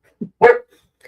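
An outside dog gives a short low woof followed by one sharp, close bark, then silence.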